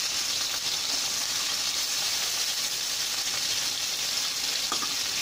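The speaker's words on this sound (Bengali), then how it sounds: "এভাবে দিয়ে নিচের ওই তলাটা যাতে ভাজা হয়" Fish frying in oil in a pan for a fish-with-Malabar-spinach dish gives a steady, close, continuous sizzle and crackle that holds evenly throughout, with no talking.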